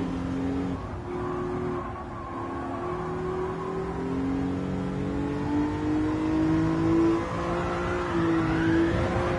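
Race car engine in Gran Turismo 7 revving hard and climbing through the gears, a loud, steady, close whine that rises in pitch with each pull and carries on alone with no talk.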